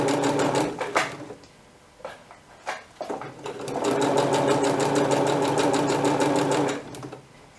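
A sewing machine stitches dress fabric in a steady rapid run of about three seconds near the end, after a few short bursts with pauses between them.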